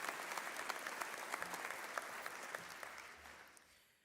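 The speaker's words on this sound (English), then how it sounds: "If we could give him an applause." A crowd at a 2021 police academy graduation claps steadily, crisp and moderately distant, holding even for several seconds before tapering off toward the end.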